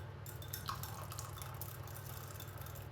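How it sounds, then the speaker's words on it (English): A small splash of water poured into mashed potatoes, a brief soft trickle and drip sounds close by in a quiet kitchen with no voices. "Tiny bit more water."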